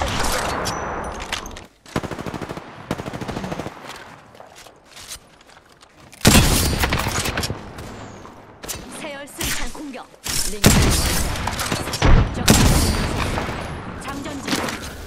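Heavy automatic gunfire from a shooter video game rattles in loud sustained bursts with booming impacts, separated by short quieter gaps, with game voice lines mixed in.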